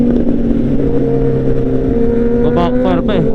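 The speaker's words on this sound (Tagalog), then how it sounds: "Grabe ang ingay ng motor" A loud motorcycle engine with a backfire rumbles steadily on a tunnel road ride, holding a close, continuous drone with a brief higher rise near the end.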